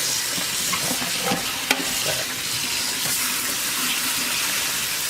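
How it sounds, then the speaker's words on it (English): Continuous running water splashes from a tap while food is rinsed and stirred under it, a steady watery hiss with faint clatter, no voices. "Good old rinse."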